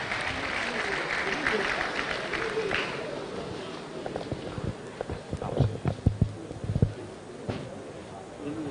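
An audience applauds a guest lecturer at a public lecture on reproductive health, dense clapping at first that thins into scattered, louder individual claps near the end, with a voice speaking over it.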